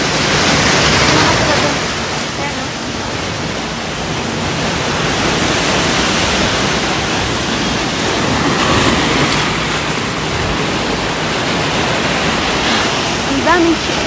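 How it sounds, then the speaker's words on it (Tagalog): Strong waves surging and breaking at St Paul Pool Beach, a steady loud broadband roar of surf and rushing water lasting throughout, with wind buffeting the microphone and a speaking voice faintly under the noise. "Ayan, ang lakas ng alon guys."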